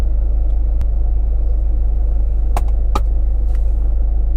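A car rolls slowly through the gates at a forge action day show, its low steady rumble and hum constant and close, with a few brief clicks and knocks standing out over the drone.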